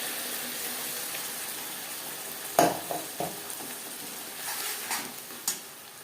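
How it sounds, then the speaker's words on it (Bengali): Spice paste frying with onions in a pan for a Bengali katla fish kalia: a steady soft sizzle, broken by a few sharp scraping and knocking stirs near the middle and toward the end. "3-4 মিনিট পেঁয়াজ ভেজে নেওয়ার পর দিয়ে দেবো মশলার পেস্ট"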